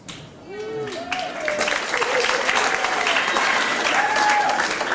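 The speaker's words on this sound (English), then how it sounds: "Knowing to applaud when someone says they're happily married for 30 years." A comedy club audience breaks into loud, sustained applause that swells after a brief pause, with a few whoops and cheers rising above the clapping.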